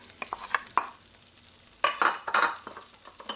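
Onions, chopped garlic and hot pepper sauteing in melted butter in a heated pot, with soft sizzling and a few spoon stirs and scrapes close by.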